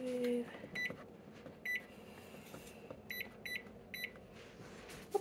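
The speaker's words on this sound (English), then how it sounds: "I'm going to, like, push some buttons on my microwave." A home microwave's keypad being pressed gives about six short, high electronic beeps at uneven intervals. They sound moderately close in an otherwise quiet kitchen.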